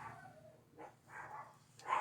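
Dogs bark in a few short, separate bursts at a moderate distance, quiet at first and louder toward the end, with the pauses in between nearly silent.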